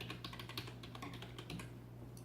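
Fingers type quickly on a computer keyboard during a Halloween vinyl sign project, producing a soft, close run of clicky keystrokes that stops about a second before the end.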